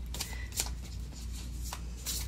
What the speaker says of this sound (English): These are kind of hard to shuffle.